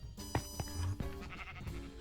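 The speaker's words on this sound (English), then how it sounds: "You can see we got the sheep in there" Several short, fairly loud bleats from blocky sheep in a Minecraft Bedrock survival world. The bleats come close together and overlap slightly, with no talking.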